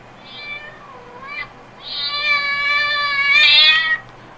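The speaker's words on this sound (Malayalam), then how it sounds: "അപ്പോൾ കാറ്റിന് സൗണ്ട് വന്നിട്ടുണ്ട്." Two clear cat meows play as a sound effect in a children's Android animal app: a short first mew, then a longer, rising and wavering meow, crisp and close against a quiet background.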